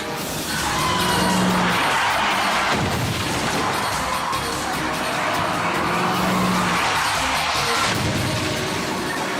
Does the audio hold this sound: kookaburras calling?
no